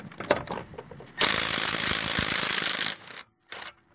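A Milwaukee M12 cordless 1/4 in hex impact driver hammers at a bolt torqued to 80 foot-pounds, a loud close burst of rapid impacting lasting under two seconds, preceded by short clicks and followed by a brief second burst.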